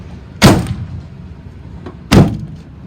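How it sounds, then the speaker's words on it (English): The rear doors of a 2008 Ford E-350 XL cargo van with a 5.4L engine produce two loud, close metallic thuds about two seconds apart, with quiet in between. "And those back doors open as they should."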